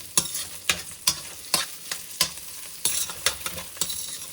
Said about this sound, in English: when I render the fat out of the bacon